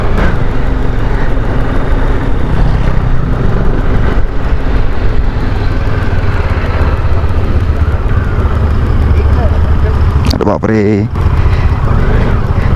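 Vehicles stuck in a traffic jam at Baralacha Pass on the road to Ladakh give a loud, steady engine rumble close by. People talk over the continuous noise.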